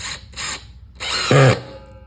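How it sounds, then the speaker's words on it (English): A power drill whirs in short bursts, then a longer run ends in a brief pitched whine as the screw seats; no talking. "you just take your drill and drill it straight in."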